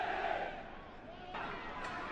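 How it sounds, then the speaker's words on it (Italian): Football stadium crowd at a Reggina–Bari match, fans cheering and chanting in a broad sustained roar from the terraces, with a commentator's voice over it. "Clima di festa sugli spalti per un gemellaggio storico fra le due tifoserie."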